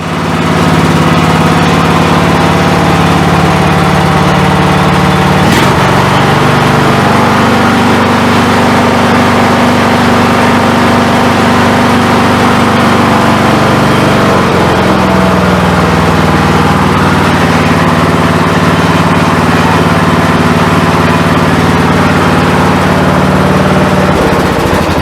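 A Briggs and Stratton Intek 17.5 hp lawn tractor engine with a replaced carburetor idles close by, a smooth steady low rumble that holds its pitch for the whole stretch, with one brief click.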